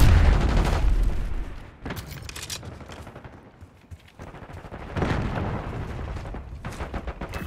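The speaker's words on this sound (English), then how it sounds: "Concussion grenade out." Gunfire and blasts in the Call of Duty Black Ops 6 beta with a concussion grenade going off: a loud boom at the start, then dense bursts of shots that fade and surge again, no speech.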